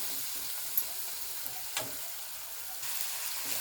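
Tomatoes sizzling and frying in a pan for a dried prawn curry, a steady crackle with a couple of stirring clanks and a brief louder burst near the middle, no talking.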